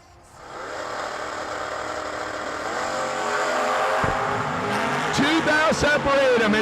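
Drag race cars, a Camaro and a Mustang, run down the strip at a New Year Nationals event, their engines rising to a loud, sustained roar that builds and holds steady under a track announcer's voice.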